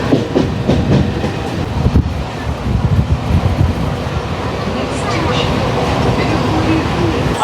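Mumbai local train running between Neral and Bhivpuri Road on the CSMT to Khopoli line, a steady close rumble of wheels and carriages with some rhythmic clatter and wind noise throughout, without any pauses.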